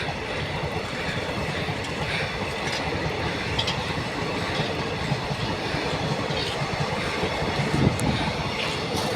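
A train passes close to a railway crossing with a loud, continuous rumble of rolling wagons that holds steady throughout, with faint clattering on top.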